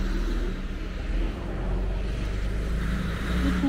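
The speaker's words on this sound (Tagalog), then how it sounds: "Ito yung sasakyan." A car rolls past on a residential street in Toronto, a steady low engine and tyre rumble that stays fairly loud and close for a few seconds, with no talk.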